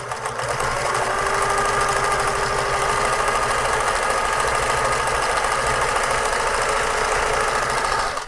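A thrift-store Pfaff 360 automatic sewing machine runs at a steady pace, its close, loud mechanical whirring and rapid knocking rhythm continuing unbroken from start to finish.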